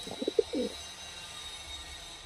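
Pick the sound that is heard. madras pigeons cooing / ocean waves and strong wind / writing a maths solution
madras pigeons cooing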